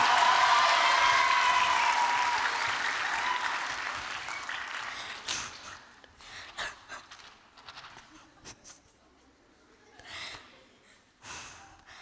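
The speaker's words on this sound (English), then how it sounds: "can I get a round of applause for Tadhg, please?" A live audience at a Cabra youth community event applauds loudly and densely for several seconds, then the clapping thins out into scattered claps, shuffling and small noises before it fades to near quiet.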